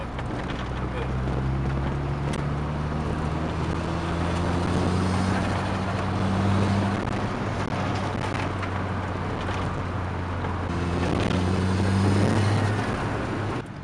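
A Ford Escort RS Turbo engine rises in pitch twice as the car accelerates, slight turbo lag then a kick, rumbling loudly over road and wind noise inside the cabin.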